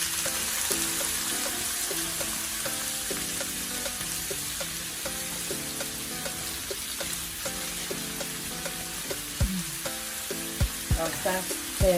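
Frozen mince fries in hot oil in a pan with a steady close sizzle. Intermittent tonal clicks sound over it, and sharper knocks arrive near the end.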